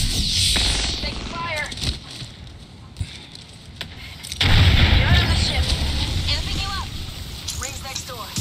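Apex Legends gameplay with heavy booming gunfire and blasts over a rumbling low background, loud bursts recurring across the clip, while a voice talks throughout.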